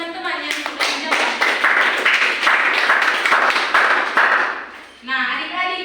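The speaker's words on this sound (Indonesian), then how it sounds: "tepuk tangan untuk teman-teman yang sudah menjawab" A small group of children clapping in a classroom during a practice lesson, several seconds of brisk, uneven handclaps close by, with a voice speaking at the end.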